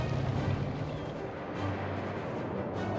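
Cannon artillery fire in the WWA RTS game, Germany versus USSR, rumbling as a dense, continuous low boom and crackle that stays loud throughout with no clear gaps between shots.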